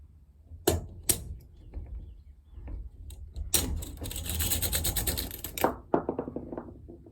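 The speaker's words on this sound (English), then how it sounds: "We're gonna pull the buffer tube out before we pull the rest of this out." The buffer tube is pulled out of an M16A1 rifle stock, giving sharp metallic clicks and knocks followed by a scraping, ratcheting slide of metal parts, close and fairly loud with no talk.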